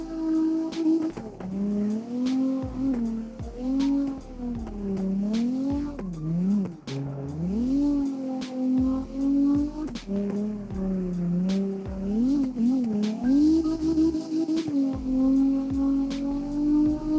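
A tuned drift car in the CarX racing game revs hard and slides through corners. The engine note rises and falls continuously over long tire squeals, loud and close throughout.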